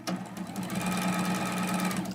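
A home sewing machine stitches a quilt seam, starting on a small fabric leader. It gives a steady, fast, humming whir with rapid needle ticks, close and continuous for a couple of seconds and without talk.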